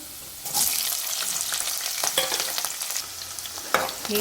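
Onions and green chillies frying in a pan for tomato curry, a steady broadband sizzle with scraping stirs and occasional sharper crackles, close and moderately loud, no talking.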